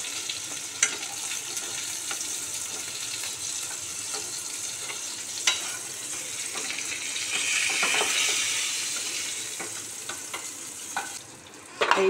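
Pointed gourd (potol) fries in hot oil and is stirred, making a continuous close sizzle broken by scraping utensil clicks against the pan.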